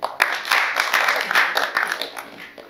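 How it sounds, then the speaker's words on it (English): Student audience at an Orthodox seminary applauding, a dense burst of many hands clapping close and loud, rising quickly and then thinning out over a couple of seconds. "Please clap for him."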